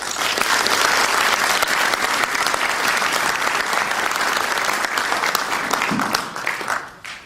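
An audience at the Fasenmyer Engineering Design Conference applauds to welcome a speaker: sustained, dense clapping from a full room that stays loud for about seven seconds, then tapers off quickly at the end.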